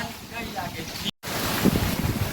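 Gusty storm wind ahead of rain roars and buffets the microphone, a broad rushing noise with a brief dropout partway through.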